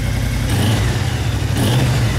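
A Suzuki AK550 scooter engine with a 270-degree crank runs loud and close after starting, holding a steady, throbbing low idle throughout.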